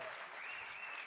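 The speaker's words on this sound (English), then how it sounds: "Come on, give him a round of applause." A crowd at a gala applauds, with a brief, dense wash of clapping at moderate distance and a faint voice underneath.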